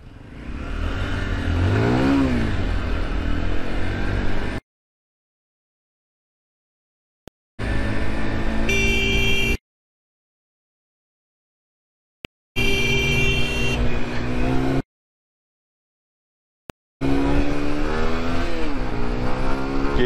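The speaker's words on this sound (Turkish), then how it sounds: "Arabalar geçiyor sağ." Cars passing on the road, heard from a moving motorcycle: loud engine and wind roar in bursts, with rising and falling passes and revving, broken by stretches of silence.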